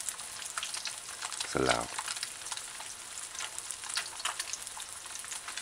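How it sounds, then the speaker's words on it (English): Fish fillet deep frying in oil on a stove set to medium high, a steady close sizzle with crackling bubbles throughout, and someone speaks briefly over it near the start. "I'm not gonna change it because I want you to see the entire frying"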